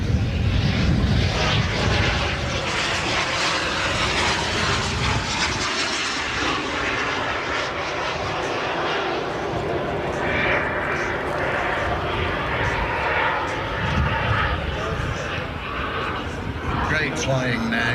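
Two fixed-wing aircraft of quite different sizes fly past together at the Elvington airshow, their engines giving a steady sustained roar throughout while a commentator talks over the top.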